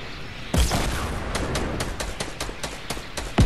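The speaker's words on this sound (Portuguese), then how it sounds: "ele vai dar o tiro de barret." A Barrett sniper rifle fires in Fortnite with a single sharp, heavy boom, followed by a scattered run of further gunshots and impacts in the game.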